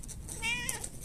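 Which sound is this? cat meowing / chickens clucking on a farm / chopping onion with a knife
cat meowing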